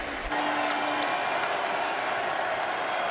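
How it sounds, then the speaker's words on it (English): Football crowd at EverBank Field during a Jaguars–Bengals NFL game, a dense, steady roar of cheering filling the stadium and holding at a constant loud level throughout. "Crowd making some noise here at Everbank Field"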